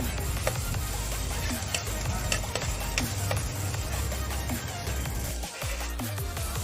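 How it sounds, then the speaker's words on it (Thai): Pounded chili being mixed into a pan for fish with tamarind chili sauce, heard as a continuous close sizzle with scattered ticks and scrapes of a spatula, fairly faint overall. "ต่อมาแล้วก็ใส่พริกครับ ที่เราโขลกไว้เมื่อกี้นะครับ คลุกเคล้าให้มันเข้ากันนะครับ"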